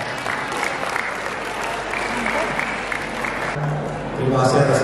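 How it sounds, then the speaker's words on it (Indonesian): A crowd at an installation ceremony for the DPW BKPRMI board in Central Kalimantan claps steadily under continuing talk, and the applause swells louder toward the end. "Tepuk tangan dong."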